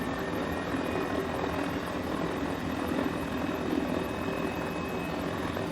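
A Mini 500 helicopter flies in Microsoft Flight Simulator above the Kiama coast in Australia, its rotor and engine drone holding steady and loud, with no pauses and no voices.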